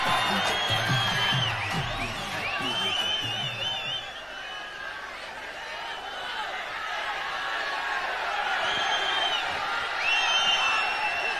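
A large crowd at an outdoor event in the rain cheers, whoops and claps for actor Dhanush, a continuous roar of many voices with shouts and laughter rising and falling, moderately distant and sustained.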